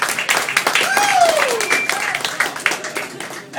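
A comedy club audience breaks into applause and scattered cheers, a dense clapping wash that swells and slowly thins, with voices and laughter mixed in.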